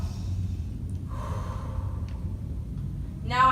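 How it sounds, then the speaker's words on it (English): A single long, deep inhale through the nose during a half-kneeling core exercise, breathy and close, followed by a brief voiced sound at the end. "Okay, so again, inhale."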